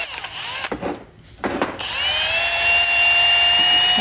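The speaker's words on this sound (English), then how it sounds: "Just hitting the splines on my axles with a wire wheel." A wire wheel on a power tool scrubs corrosion off the splines of a car's axles, a loud steady whirring grind that cuts out briefly near the start and then runs on continuously.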